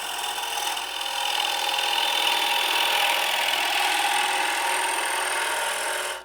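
A gouge makes an entry cut into wood spinning on a lathe at 1100 rpm, producing a continuous close hiss and scraping whir that holds steady and then cuts off abruptly.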